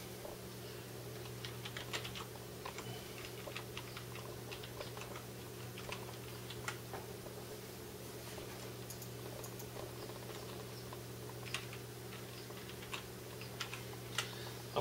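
Keystrokes on a computer keyboard patter steadily for about fifteen seconds, quiet and close, in short irregular bursts over a constant low hum from a Windows PC during a network file-sharing setup.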